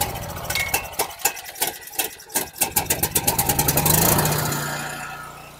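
A Subaru Robin powered Black Max 5250 watt generator pull-starts, giving a few sputtering chugs that speed up into a steady, loud running roar close by.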